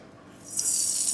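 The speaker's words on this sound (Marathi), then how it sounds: "आपण आता मोहरी टाकली आहे" Mustard seeds crackle and sizzle in a hot kadhai, a dense spitting hiss that swells partway through and stays loud and close with no talk.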